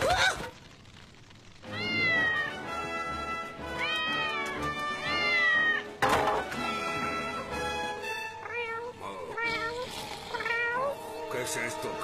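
A black cat in a Simpsons cartoon meows repeatedly in long, wavering, high-pitched calls, loud and close, broken by sharp noises and with voices talking in between.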